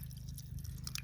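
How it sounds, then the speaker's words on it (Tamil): Water poured out in a village kitchen while salt is added and mixed for a breakfast dish; a brief, quiet trickle and splash over a low background hum. "தண்ணி நாங்கள் ஊற்று போதும், தண்ணியாக தான் இருக்குது."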